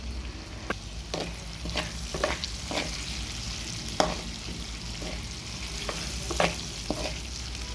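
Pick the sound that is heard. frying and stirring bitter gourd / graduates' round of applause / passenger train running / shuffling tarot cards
frying and stirring bitter gourd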